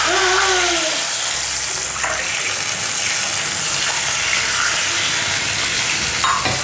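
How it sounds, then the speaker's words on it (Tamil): Two glasses of water pour steadily into a hot pan while making rava kesari, hissing and sizzling continuously at close range. "2 கிளாஸ் தண்ணி ஊற்றிக்கலாம்."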